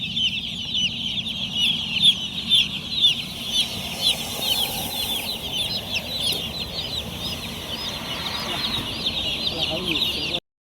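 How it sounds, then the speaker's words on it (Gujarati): A large flock of chickens and roosters clucks and chirps nonstop, loud and near, over a constant hiss of background noise. "નવી નવી વેરાયટીના બચ્ચા છે એ તો મુરગીના જ છે કુકડા જ છે"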